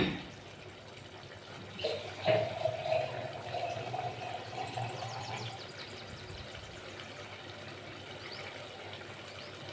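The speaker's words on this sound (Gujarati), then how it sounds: "રસો નાખવા માટે આપણે પાણી નાખીશું." Water poured into a pot of simmering desi chana curry, Kathiyawadi style, a gushing splash that starts after a quiet moment, swells briefly, then settles into a softer steady flow, close by with no speech.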